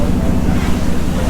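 Wind and choppy harbour waves during a boat crossing from Kowloon to Hong Kong Island, a steady, loud, unbroken rush of low wind buffeting and water wash close by, with no pauses.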